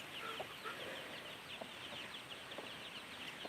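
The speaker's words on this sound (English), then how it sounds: "check the little chicks, see how they're doing" Hens and small chicks cluck and peep softly in a farm coop, with short scattered calls over a steady background hum, fairly quiet and without any talking.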